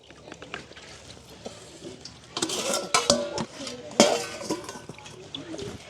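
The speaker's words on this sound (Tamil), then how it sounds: "மிளகரியை போட்டு நாங்கள் நல்ல வடிவாக கிண்டி போட்டு மூடி விட்டா சரி" Chili being stirred in a cooking pot in a village home kitchen, with scraping metal clatter and pot knocks that swell in the middle, close and moderately loud over low background noise.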